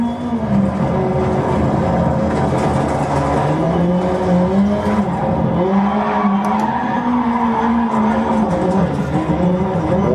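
A four-wheel-drive car in a racing video game drives hard, its engine droning and shifting pitch while tires skid and squeal continuously, loud and steady throughout.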